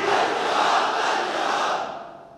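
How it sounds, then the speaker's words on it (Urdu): A large crowd roars out a religious slogan together, a loud, sustained wash of many voices that holds steady and then fades toward the end. "یہ جو آپ نعرے لگا رہے ہیں نا"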